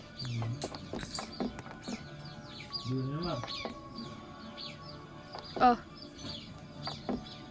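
Chicks cheep in short, high, rising chirps, scattered and fairly faint, with people talking quietly over them.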